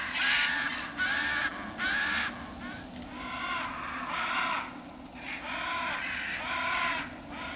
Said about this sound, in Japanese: なんだ、鳥か。